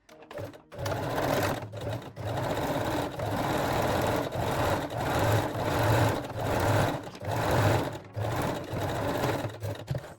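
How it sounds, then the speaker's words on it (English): A sewing machine stitches a seam on a bikini top about a centimetre from the bottom edge, running steadily and close for most of the stretch with a few brief pauses and restarts. "So I will sew it 1 centimeter from the bottom edge."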